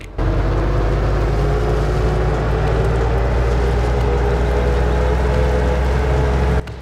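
A JCB Workmax 800D utility vehicle engine in a farming video game drones at a steady, low rumble from start to finish, cutting off abruptly at the end.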